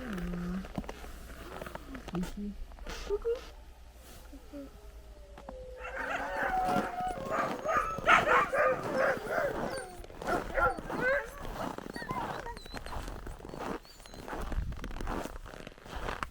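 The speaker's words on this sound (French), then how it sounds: "Heureusement qu'on sait que c'est les chiens quand même." Sled dogs at Lake Baikal howl, yip and bark together in a chorus that swells in the middle and stays moderately loud, with rustling nearby and a few faint voices.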